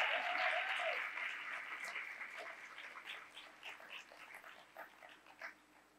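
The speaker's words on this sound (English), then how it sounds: "Please give her another warm round of applause." Audience at a storytelling plenary gives a round of applause that starts full and fades gradually to scattered claps over several seconds, fairly faint overall.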